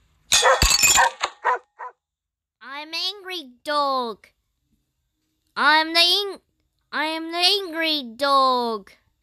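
In a cat simulator video game, an angry dog gives drawn-out, tonal barks and yowls in several separate bursts after a sharp crash at the start, loud and alone with silent gaps between.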